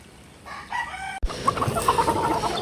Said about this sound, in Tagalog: Si RJ po ay nagpapatukanan ng kanyang mga alagang manok